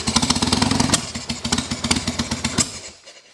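A motorcycle fitted with an S&S carburetor sputters and runs roughly after a choked start. The engine chugs unevenly and loudly up close, then stumbles and dies out near the end.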